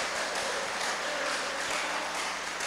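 Congregation applauding during a church sermon, a steady dense wash of clapping that holds at even loudness throughout with no voice over it.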